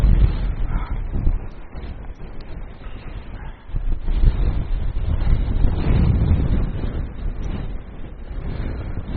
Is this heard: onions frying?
no